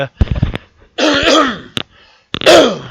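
A few throaty coughs or throat-clearing bursts, close and loud, separated by short pauses.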